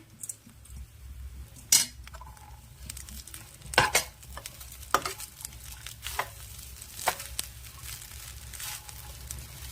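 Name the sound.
stirring fried onions into drumstick leaf rice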